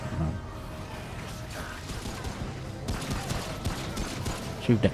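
Gunfire in the video game Remnant: From the Ashes comes as scattered shots and bursts over game ambience, with a couple of sharper reports near the end.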